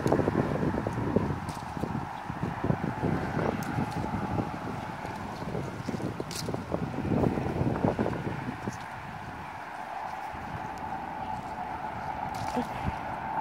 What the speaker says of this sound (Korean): 날씬한 사람들은 서 있으면